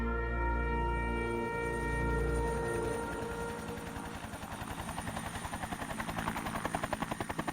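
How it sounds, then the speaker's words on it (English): A military helicopter flies close and loud, a heavy droning engine whine giving way to the rapid, steady thump of rotor blades. "Vietnam was the first time American soldiers rode into battle aboard helicopters."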